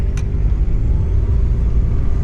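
Interior of a 1996 Toyota Land Cruiser Prado diesel rolling on knobby tires, a steady loud low engine and road rumble filling the cabin throughout with no talking.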